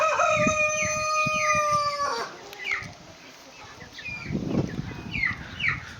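A young rooster crows while chicks and hens cluck and peep nearby in a farmyard coop. The sounds are close and fairly clear against steady background noise.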